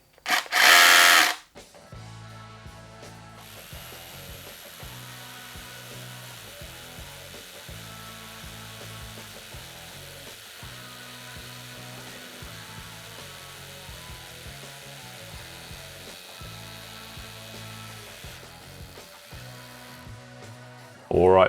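A rotary hammer drills a 12 mm hole in concrete, pounding at a steady rate through long rhythmic bursts separated by brief pauses. A loud noisy burst comes at the start and another at the end.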